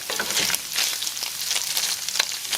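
Beef chicharrones fry in a pan, a close, steady bubbling sizzle with bright crackles and pops coming in irregular bursts.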